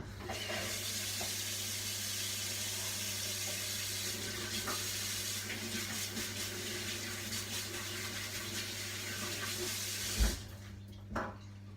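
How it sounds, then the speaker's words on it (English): Tap water runs steadily into a sink while hands are washed, a constant hiss and splash that goes on for about ten seconds before cutting off with a couple of clunks. "I'm going to just wash my hands"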